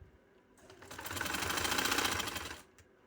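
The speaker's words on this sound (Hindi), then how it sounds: "ये मैं बखिया लगा रही हूँ" A sewing machine stitches fabric in a single steady run of about two seconds, a fast even mechanical whir that rises, holds, and stops, close and clear with no talking.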